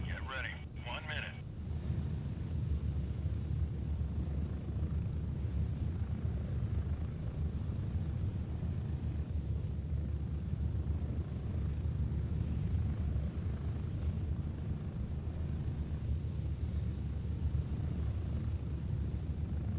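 Aircraft lifting off slowly inside a video game, a steady broad engine rumble droning throughout without letting up, with a brief higher burst near the start.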